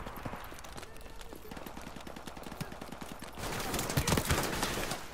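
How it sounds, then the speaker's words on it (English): Sustained gunfire in Call of Duty: Modern Warfare Remastered, with rapid rhythmic bursts of shots that grow louder and denser near the end and form a continuous fusillade. "Oh, I hear the bullets."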